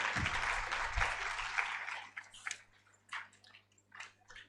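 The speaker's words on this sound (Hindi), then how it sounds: "जोरदार तालियां एक बार please" Applause from an audience at a university management event in India, a broadband burst of clapping for about two seconds that then thins into scattered, separate claps before fading.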